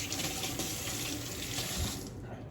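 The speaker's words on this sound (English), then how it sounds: "we're gonna rinse your hands first" Tap water runs steadily into a kitchen sink as hands are rinsed during chicken teriyaki prep, a close, even splashing stream that cuts off just before the end.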